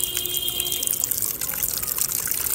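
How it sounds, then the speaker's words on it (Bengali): Water pours in a steady, close trickle as it fills a container after washing, a soft continuous splashing heard on its own. "এবার জলটা ভর্তি হবে"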